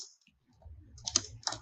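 Fingers tap out a short burst of keystrokes on a computer keyboard, a few faint, close clicks after a moment of near silence.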